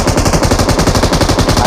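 An AKM rifle fires in full-auto bursts in a shooter video game, a loud, continuous rapid stream of shots with no pauses across the short stretch.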